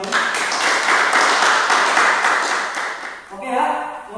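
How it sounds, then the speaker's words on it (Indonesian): Classroom applause for a student, Mas Amin, after he lists car cooling system parts: steady broadband clapping for about three seconds, then fading as a voice takes over. "Ya, kita beri tepuk tangan untuk Mas Amin."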